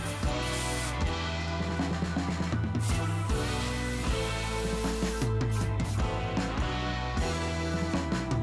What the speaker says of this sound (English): All I'm gonna do is spray this down.